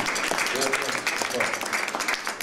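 Dense, continuous applause from an audience for Marie-Laurence Pasquini at a formal gathering, steady throughout with a faint voice beneath.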